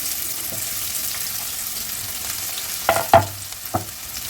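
Finely chopped onions fry in oil in a pan for egg curry. A continuous close sizzle carries several sharp clacks and stirring scrapes toward the end, and nobody speaks.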